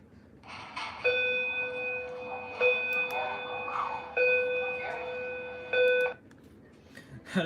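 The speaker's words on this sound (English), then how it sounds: "the bell at my elementary school" Elementary school bell tone from a speaker strobe: a steady electronic chime with bright sustained tones, repeating in pulses roughly every 1.5 seconds, loud and close, with no talking.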